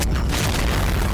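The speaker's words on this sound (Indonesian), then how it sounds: "Teknik ledakan tanah." A magic technique blasting the ground open, rendered as a loud, deep boom that hits at once and rolls on as a dense, rumbling roar for about a second, with no voices over it.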